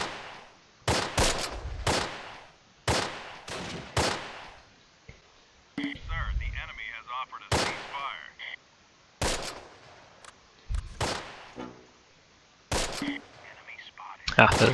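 Repeated bursts of German MG34 machine gun fire and scattered gunshots in the WWII strategy game Close Combat: Last Stand Arnhem, loud sharp volleys separated by short pauses, with other battle noise between them.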